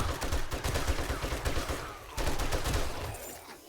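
An M60 machine gun fires in a video game, sounding as a steady, rapid automatic stream of shots at moderate volume with one brief break partway through and no talk.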